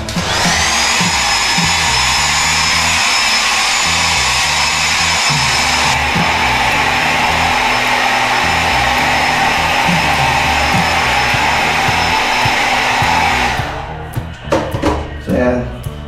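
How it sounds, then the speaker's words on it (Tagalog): A hair dryer blows in a steady, loud roar close by for about fourteen seconds, then cuts off, leaving brief clatter and movement. "Yung blower pa yun. Blower tayo."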